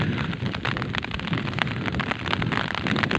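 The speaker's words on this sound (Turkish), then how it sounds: "Köyümüzde aralıklarla yağmur devam ediyor arkadaşlar." Steady spring rain pattering on a surface nearby in a village, dense and continuous with scattered heavier drops.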